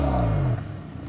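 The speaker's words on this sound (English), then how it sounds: "I am driving an all-wheel drive Ford Fusion that is the top-of-the-line titanium model" A 2013 all-wheel drive Ford Fusion Titanium with a six-speed transmission accelerates, its engine note droning loud and rising in pitch for about half a second before easing off into quieter running.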